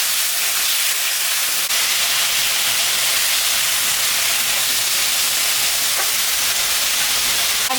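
A ginger and cumin paste with a green chili sizzles in hot oil for a fish curry, giving a constant loud, dense hiss with no break and only faint clicks here and there.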